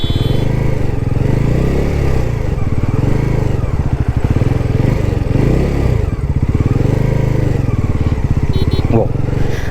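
A 2024 Bajaj NS400z motorcycle rides in a full circle through city streets, its engine thrumming loud and close with a steady pulsing rhythm and small rises and dips in revs.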